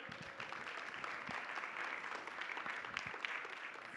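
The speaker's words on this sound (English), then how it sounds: "Let's give them a round of applause first." Audience applause fills the room after an insect talk on dragonflies at Bugfest, a steady wash of many hands clapping for several seconds with no voices over it.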